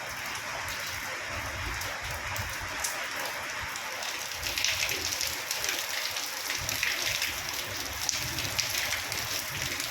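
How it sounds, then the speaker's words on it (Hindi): Steady rain falls outdoors at home, a dense, even patter of drops on surfaces, moderately quiet and continuous, with no voices. "बेटे ने बोला बारिश आ रही है मम्मा चलो बारिश में भीगते हैं।"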